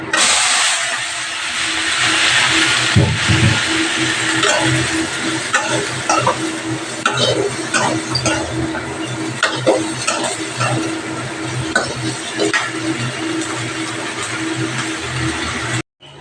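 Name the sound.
chopped eggplant frying and being stirred in a pan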